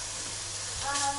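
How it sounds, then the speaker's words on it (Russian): Bacon fries in a pan for stuffed royal champignon mushrooms with cheese, giving a steady close-up sizzling hiss that runs evenly throughout, with a voice briefly audible near the end. "пока бекон будет жариться"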